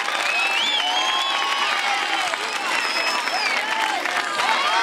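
Sustained audience applause for the choir teachers at a school centenary choir event, dense steady clapping throughout with some scattered cheering and voices mixed in.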